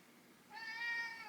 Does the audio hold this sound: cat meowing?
yes